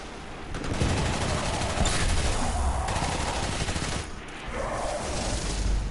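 Continuous rapid submachine gun fire from a legendary Iron Banner weapon in Destiny 2, dense and steady for nearly six seconds with a brief dip before resuming.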